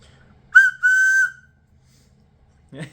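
A short, sharp whistle blast and then a longer shrill note from a tiny homemade 2.5-inch whistle, close and loud, followed by a brief soft thump.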